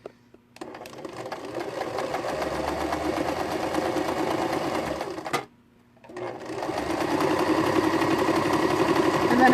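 A basic mechanical sewing machine runs a zigzag stitch in a fast, even mechanical whir, pausing briefly midway before starting again, fairly close and moderately loud.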